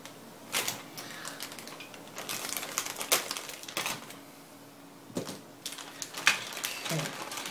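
A model car kit is unwrapped from its plastic bags, giving close crinkling and rustling of plastic in irregular bursts with brief quieter pauses between them.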